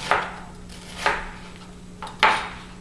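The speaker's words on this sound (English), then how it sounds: "when I finish chopping these onions" A knife chopping onions on a cutting board during home meal prep, four separate sharp chops spaced about a second apart, close and distinct with no talking.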